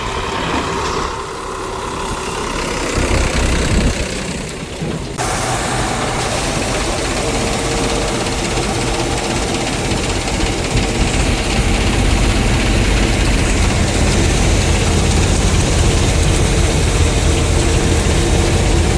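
A tractor engine runs steadily on a farm during the wheat harvest, a loud continuous low rumble that holds throughout without a break.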